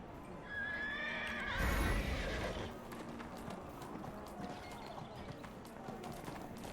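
A pony neighs in the online game Neverwinter: one loud, close whinny with hoof clip-clops, then quieter game ambience, while a player talks in between.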